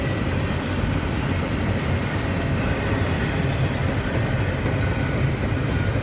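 CSX freight train rolling through, a loud continuous broadband rumble of wagons passing close by, steady throughout with no voices.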